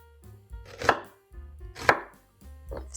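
A knife chops a purple onion coarsely on a board, three distinct, fairly sharp chops spaced about a second apart, close and quiet, with nobody talking.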